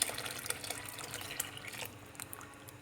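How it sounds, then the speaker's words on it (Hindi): Milk being poured into tapioca pudding while it is made, a soft, brief liquid trickle and splash at close range with no talking. "इसके अंदर अब मैं दूध शामिल करने लगी हूँ।"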